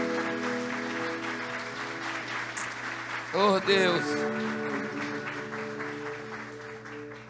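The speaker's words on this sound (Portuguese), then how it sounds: "Dá uma salva de palmas ao Senhor." A church congregation clapping in praise during a sermon, continuous rhythmic applause over sustained organ or keyboard chords, with a man exclaiming briefly in the middle.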